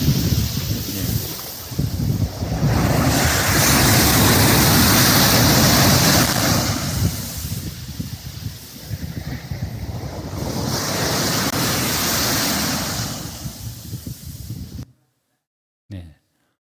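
Ocean waves at Gyeongpodae beach roll in and break in slow, loud washes of surf, mixed with wind noise on the microphone, then cut off abruptly near the end.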